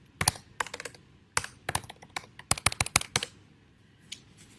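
Computer keyboard keys clatter in irregular bursts of crisp clicks, close and fairly quiet, with short pauses between runs and a single stray tap near the end, and no one speaking.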